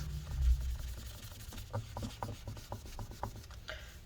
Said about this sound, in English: we're just going to go ahead and rub the residue until it all goes away